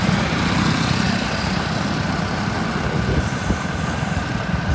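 A motorcycle engine drones steadily during an evening ride past farm fields. The low rumble is continuous and close, with wind noise and no clear speech.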